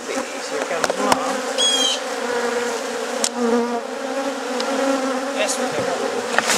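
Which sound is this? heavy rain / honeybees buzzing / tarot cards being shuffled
honeybees buzzing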